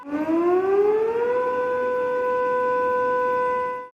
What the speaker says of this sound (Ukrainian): У Севастополі оголошували повітряну тривогу.